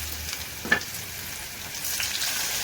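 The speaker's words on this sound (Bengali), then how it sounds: "কড়াই বসিয়ে তেল দিয়ে দিলাম, গরম হয়ে গেছে, দিয়ে দিলাম পেঁয়াজগুলো একটু ভেজে" Onions fry in hot oil in a kadai wok with a soft, continuous sizzle. One small clatter sounds early on, and the frying is fairly quiet with no voices.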